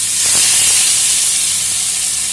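Oil poured over tomato pickle hissing and sizzling loudly in a hot pan, a dense close-up frying crackle that holds steady throughout with a slight swell near the start.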